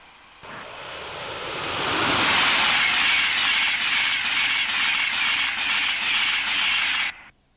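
EWS Class 66 diesel locomotive passing on the joint line across Potteric Carr, a broad rushing roar that swells over a couple of seconds, holds steady with rhythmic wheel clatter, then cuts off abruptly.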